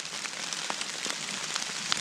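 Steady rain falls in a forest during mushroom picking, a dense even hiss with scattered close drops pattering on leaves and nearby surfaces.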